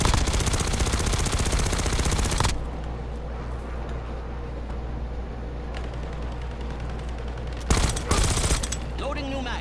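Bursts of rapid automatic gunfire from the video game Warzone in a zombies mode, loud at the start, then a quieter stretch and another sharp burst near the end.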